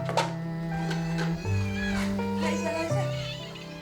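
Short-tailed stray cats on an island meow insistently for food at a doorstep, a series of long wavering cries in close succession, with a low background murmur.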